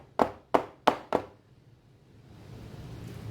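A loaf pan of raw chicken meatloaf knocked against a kitchen counter four times in quick succession, sharp close thuds, followed by quiet room hiss.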